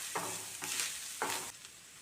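Grated coconut scraped and stirred in a hot pan, with three soft scraping sweeps over a steady faint sizzle, close by and with no voices.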